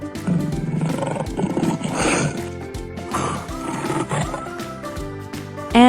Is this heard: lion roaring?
yes